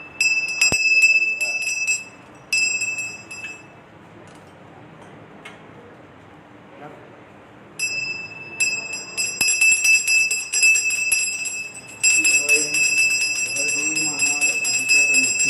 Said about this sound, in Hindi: एक आदमी घंटी बजाता, एक आदमी आरती करता।